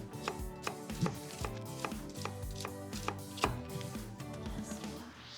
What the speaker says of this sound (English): So, I'm going to slice some red onions, very fine.